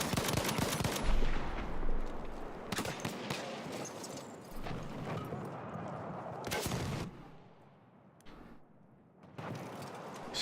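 Rapid gunfire in a Halo tournament match on Xbox One, dense bursts of shots in a continuous loud stream with brief lulls, under faint commentary.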